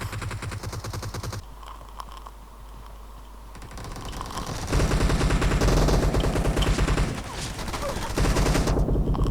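Dense automatic gunfire rattles in PUBG Mobile, including a Thompson submachine gun: long bursts and rapid overlapping shots that grow louder and more intense toward the end, with little pause between volleys.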